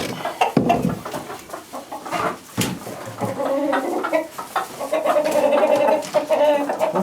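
Farm chickens clucking and calling close by, a busy overlapping chorus of short clucks and louder squawks that keeps going throughout.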